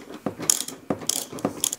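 A ratchet on a swivel turns a 10 mm bolt on the headlight housing of a 2008 Cadillac CTS, giving several short bursts of close, crisp pawl clicking with brief pauses between strokes.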